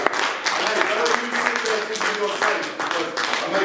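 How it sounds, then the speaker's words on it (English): An audience claps in sustained applause across the whole stretch, dense and steady with brief swells, and a few voices can be heard underneath. "let's give him a round of applause."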